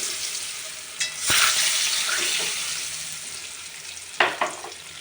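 Eggs dropped into a frying cauliflower and new potato curry, a steady close sizzle with a couple of sharp clattering stirs of a spoon in the pan, no talking.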